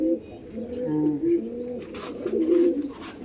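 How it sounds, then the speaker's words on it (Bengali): Several pigeons of a high-flying breed coo softly and repeatedly in layered, overlapping calls at close range. Faint chirps and a low background hum sit behind the cooing. "এটা রন্টু স্যারের এটা পায়রা"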